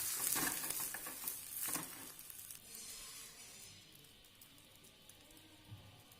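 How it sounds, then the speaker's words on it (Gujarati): Pav bread toasts in hot oil on a pan for dabeli, giving a faint, steady sizzle with a brief scraping stir near the start that settles into quiet frying. "એવી જ રીતે બીજું પાઉં શેકી લઈશું"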